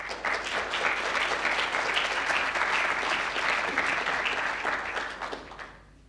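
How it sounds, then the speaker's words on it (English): Audience at a Failing Forward 2016 talk applauding to welcome a speaker, a dense sustained clapping from a full room that fades away at the end. "I hope you will welcome him with a warm applause."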